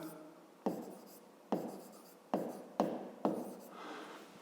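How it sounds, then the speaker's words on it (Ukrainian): Chalk or marker strokes on a board during a fifth-grade maths lesson, five distinct scratching bursts spaced about a second apart, close and fairly quiet. "Так і запишемо."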